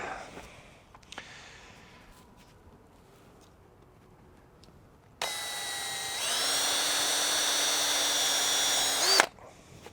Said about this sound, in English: we're going to try and screw this one down on either side of it